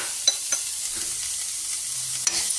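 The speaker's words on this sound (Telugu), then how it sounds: "బాగా ఫ్రై చేసేస్తాము." Egg fries in a pan with salt, a soft steady sizzle broken by a few light taps and scrapes of stirring, close and fairly quiet.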